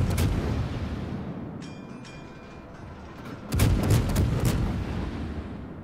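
Cruiser naval guns fire in World of Warships, a Soviet tier-10 Smolensk, with a rolling low boom that fades and then a second loud salvo of booming artillery blasts, with a heavy rumble underneath.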